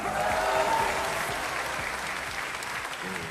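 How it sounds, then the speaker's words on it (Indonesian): A large audience applauds steadily throughout at a televised talk show event, a dense wash of clapping with faint crowd noise underneath. "Tepuk tangan sekali lagi dong."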